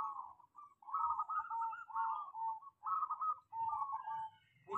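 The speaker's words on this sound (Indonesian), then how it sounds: "cara bikin perkutut supaya kuat manggung ngelos" A zebra dove (perkutut) coos in repeated soft, rolling phrases with short pauses between them, close and clear against a quiet background.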